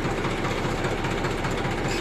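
A Massey Ferguson 1035 DI tractor engine runs close by, its dense, steady diesel rumble loud and even through a short stretch, with no voices heard over it.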